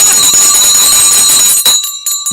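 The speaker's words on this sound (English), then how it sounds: "I'm grabbing the bell because we got 8 seconds" A hand bell rung to mark the stock market close clangs loudly and continuously for about one and a half seconds, with bright sustained metallic ringing, then cuts off, leaving a few fainter rings and clatter.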